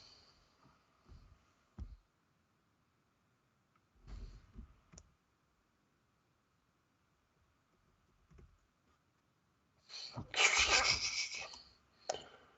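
Sparse bursts of computer keyboard typing, quiet and close, with long silent gaps and one denser flurry of keystrokes near the end.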